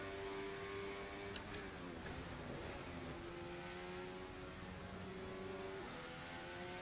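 An RSS Formula Hybrid X race car in Assetto Corsa hums steadily as it is eased gently through a final corner on a bumpy track, a faint, even engine tone with one small click.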